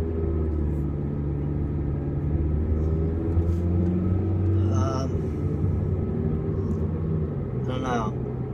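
Steady low engine rumble and road noise from a car driving to a gas station, running on premium fuel, continuous throughout with a couple of brief higher chirps.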